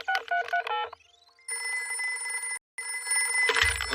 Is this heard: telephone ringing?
yes